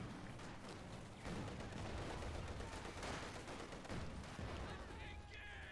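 A T-70 tank fires amid a busy game battle, with a dense wash of gunfire and explosions sounding continuous and somewhat distant beneath commentary.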